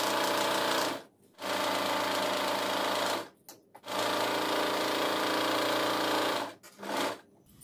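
A sewing machine stitches a blouse side seam in long, steady buzzing runs. It stops briefly between bursts, then starts again, loud and close, with no talk.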